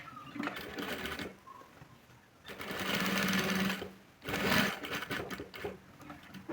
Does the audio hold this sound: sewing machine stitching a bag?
yes